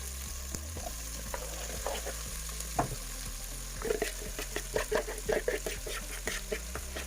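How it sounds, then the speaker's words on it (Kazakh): Tomato, potato and carrot fry together in a pan, a steady close sizzle broken by repeated scraping stir strokes that cluster more densely in the second half. "Помидор, картоп, морковь барлығын қосып, аздап қуырып алатын боламын"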